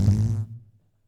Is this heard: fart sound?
yes